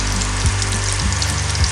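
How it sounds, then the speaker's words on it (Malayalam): Cutlets frying in oil on a medium flame, a steady dense sizzle with a continuous hiss throughout and a low background hum, close and without talk. "മീഡിയം ഫ്ലെയിമിലിട്ട് വേണം ഫ്രൈ ചെയ്തെടുക്കാനായിട്ട്"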